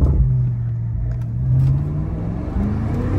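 Windows down, a BMW F90 with a Dinan X-pipe exhaust gives a sporty, rumbling engine tone that climbs steadily under acceleration. It is loud and close, heard from the moving car, with a couple of small knocks and no speech.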